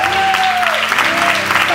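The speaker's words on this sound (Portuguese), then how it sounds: "Un aplauso al pastor Antonio desde Brasil" Loud applause from a church congregation greeting a visiting pastor from Brazil, with a voice speaking over the crowd's clapping throughout.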